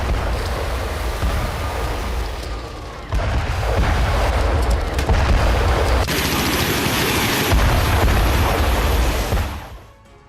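Booming blasts and rumbling gunfire from bombing of the Iranian navy headquarters in an Israeli strike, loud and continuous with heavy low-end thuds, briefly dropping then surging again before fading at the end.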